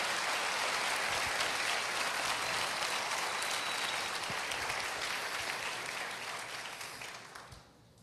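A church congregation gives strong applause for Jesus, a dense sustained wash of clapping that fades away toward the end, with no voices.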